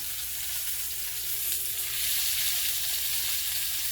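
A tuna steak sears in a hot pan, giving a continuous, bright, hissing sizzle that stays steady and close throughout, with no talking.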